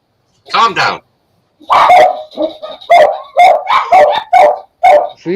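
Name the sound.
dogs barking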